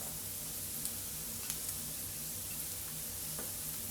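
Pepperoni sizzling in a pan for a pizzadilla, a dense, close, continuous crackling fry with a few small pops and ticks scattered through.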